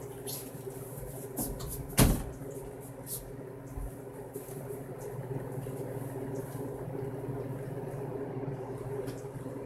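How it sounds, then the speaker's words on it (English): Door in the Bendy video game slamming shut, a single sharp loud thud near the start followed by a low steady ambient hum. "Close the door."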